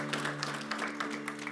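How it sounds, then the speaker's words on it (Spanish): A church congregation claps loudly in a short, dense burst of scattered applause from many hands at once, with no talk over it. "Dele un aplauso fuerte al Señor si usted está contento."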